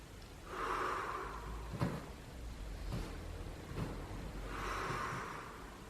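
Deep breaths drawn in and let out during a gym ball strengthening exercise, two long airy inhalations at the start and end with a few soft thumps of movement between, close and fairly quiet, no talking.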